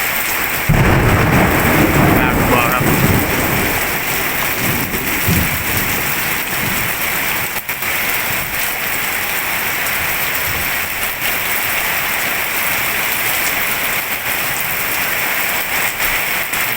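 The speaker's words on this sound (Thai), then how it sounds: "ฟ้าร้อง ฝน นะครับตอนนี้" Heavy rain pours down steadily over a village in Pluak Daeng, with deep rolling thunder rumbling loudly in the first seconds and a constant dense hiss of falling water throughout.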